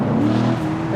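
A 2014 Corvette coupe with its exhaust flap open, giving a steady, loud, throaty engine drone at close range for a moment, with no voices.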